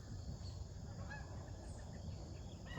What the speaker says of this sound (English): Only one was honking